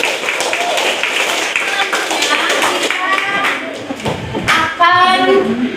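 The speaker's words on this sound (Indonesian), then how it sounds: "Tepuk tangan untuk Mas Riko" A classroom of children claps in a burst of overlapping hand claps that runs for several seconds, loud and close, while voices of students and a teacher chatter alongside.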